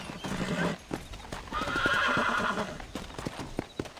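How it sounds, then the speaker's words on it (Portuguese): A horse's hooves clop rapidly in a gallop in the video game Red Dead Redemption while a loud whinny rises in the middle, with a few sharp clicks at the end. "O cavalo cansa muito rápido"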